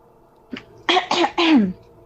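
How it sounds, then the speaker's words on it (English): A person clears their throat in a few quick, harsh bursts, close and loud. "Gotta clear my throat."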